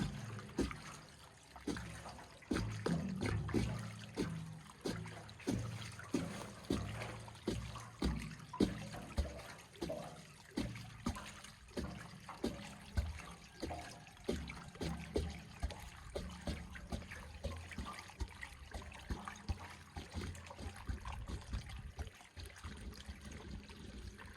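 Water pours and splashes out in a long, steady stream with gurgling pulses, fairly close and continuous for most of its length.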